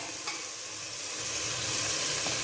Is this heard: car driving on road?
no